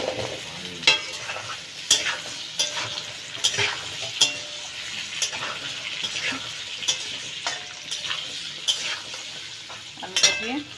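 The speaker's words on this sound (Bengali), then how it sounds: "ভালো করে একটু ভেজে নেব ডালটাকে।" Mung dal fries in a pan with potatoes, a steady sizzle under repeated scraping of a spoon stirring against the metal, close and constant.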